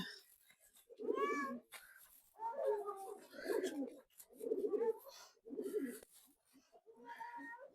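Pigeons kept in a winter coop cooing in a series of close, rounded calls separated by short pauses.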